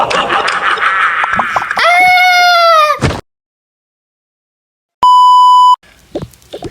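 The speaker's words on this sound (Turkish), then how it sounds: "Bak bu bizim yangın alarmımız." A shrill electronic fire alarm beep in the video game Toca Boca sounds twice, a rising tone and then a flat sustained one, separated by silence, with excited voices and laughter before and after.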